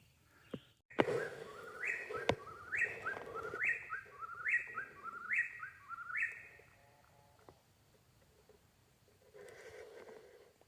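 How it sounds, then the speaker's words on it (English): A single bird sings outdoors at a trail campsite at night, repeating a clear series of rising whistled phrases at a steady rhythm, moderately close, followed by a few softer chattering notes and fainter calls. "What kind of bird was that?"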